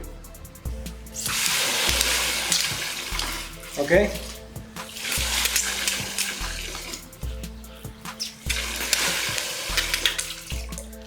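Strong running water gushes steadily under pressure from a homemade multipurpose water pump, with clanking and a brief spoken word partway through.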